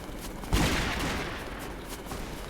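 A gun goes off in the Roblox Wild West game, one sharp loud shot followed by a rolling echo and a lingering noisy tail, with no voices over it.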